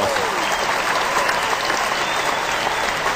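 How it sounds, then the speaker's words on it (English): Sustained applause from a studio audience, a dense, steady roar of clapping that holds at an even level throughout with no gaps. "Let me give him a roaring round of applause."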